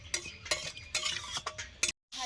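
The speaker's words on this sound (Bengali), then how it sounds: "ভাজা হচ্ছে করলা, মিষ্টি কুমড়ো, গাজর একসঙ্গে" Bitter gourd, pumpkin and carrot fried together in a pan, with a quick series of scraping stirs against the metal over a faint sizzle.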